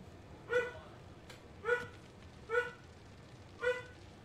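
Four quick, high yapping barks from a pet dog indoors, evenly spaced across a few seconds, quiet and slightly removed, standing alone against low background hiss.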